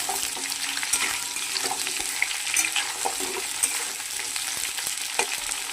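Fresh winter cauliflower fries in a pan with a constant, bright sizzle. Light, irregular taps and scrapes from stirring come through close by, and no speech is heard.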